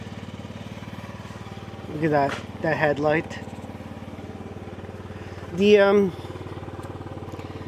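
A Yamaha C3 50cc scooter engine idles close by with a steady, low, fast putter throughout, while someone talks briefly over it.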